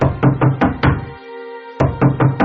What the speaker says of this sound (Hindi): जब वो बाहर नहीं आया तो इस बार मैंने दरवाजे पर दस्तक देना शुरू किया।